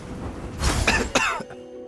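Baizhu, a character in the video game Genshin Impact, lets out a few short, raspy coughs close up. Two sharp bursts sit over a faint background hum.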